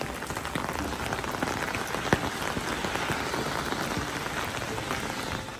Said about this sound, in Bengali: শুনলেন বৃষ্টির আওয়াজটা একবার?